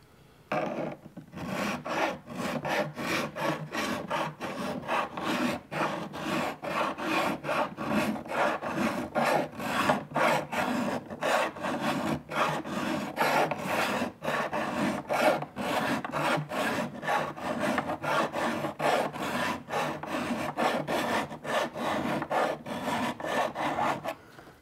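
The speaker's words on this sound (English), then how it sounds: "So still have a little nick over here. We're going to keep filing." Steady, rapid rasping of a file across guitar frets during fret work on an archtop guitar, close and continuous with regular back-and-forth strokes and no talk.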